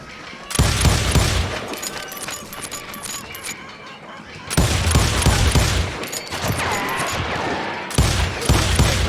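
Bursts of rapid gunfire from the Western shooter Call of Juarez Gunslinger arrive in three loud waves of clattering shots with booming low thuds, separated by quieter stretches of echo and distant pops.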